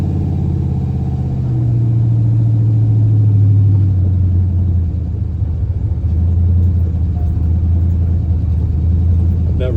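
A car driving at night through a quiet neighborhood, its engine a loud, steady low rumble that dips slightly in pitch partway through, continuous with no voices.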